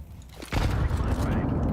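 A grenade goes off in Counter-Strike 2, a sudden loud boom that rolls into a sustained rumbling roar, with a faint voice line just before the blast.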